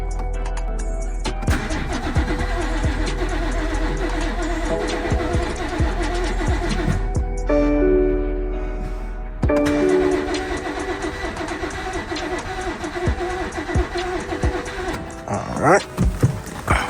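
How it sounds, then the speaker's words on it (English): A BMW 440i engine cranks and starts after its fuel injectors and high-pressure fuel pump were replaced, recorded up close with a running engine under steady talk. "Then I'm gonna plug these back in and try to start the car."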